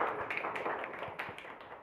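An audience at an economics exhibition applauds, a brief spell of dense, moderately loud clapping heard from nearby.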